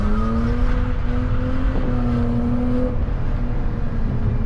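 BMW 320i E36 coupe with a 150 hp manual gearbox accelerating through city streets, its engine droning loudly with a rising pitch heard from inside the cabin.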